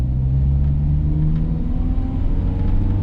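Classic Volkswagen Passat LS engine droning steadily from inside while driving, a low continuous rumble with even mid-range whir and no gaps or voices.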